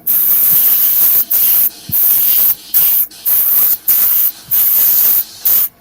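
An airbrush spraying weathering paint on model locomotives hisses in a series of loud, steady bursts with short breaks between them, close up and with no talking.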